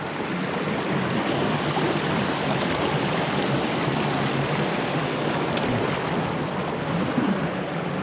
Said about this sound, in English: the tidal River Caen. Tide is actually in now.